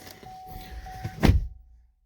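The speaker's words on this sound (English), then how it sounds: "Let me shut the door." A 2020 GMC Sierra 2500 pickup truck door swings and shuts with a single solid thunk, followed by a quick fade to quiet.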